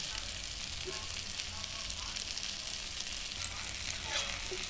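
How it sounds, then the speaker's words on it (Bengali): Spices fry in hot oil for egg tarka, a dense, even sizzle that holds steady and close throughout with faint stirring scrapes. "এবারে মশলাগুলোকে মিশিয়ে নেব। এবারে এক্সট্রাকে দিয়ে দেবো, মশলা কষানো হয়ে যাচ্ছে"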